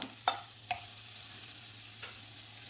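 Butter sizzles softly and steadily in a pan as bread toast is made, with a few light utensil clicks near the start and no talking.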